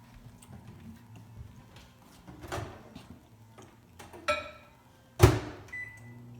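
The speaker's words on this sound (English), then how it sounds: "I think I'm going to pop it in the microwave just for a quick second." A microwave oven hums softly while softening butter, with a few ticks and clicks, then a sharp clunk of the door or a handled item near the end.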